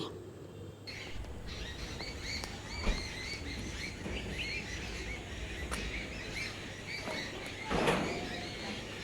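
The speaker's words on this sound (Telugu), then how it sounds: "పిట్టలు ఇంకా చాలా సౌండ్ చేస్తున్నాయని" Scattered evening chirps and calls of several birds over a constant outdoor hum, mostly faint, with a couple of louder bursts.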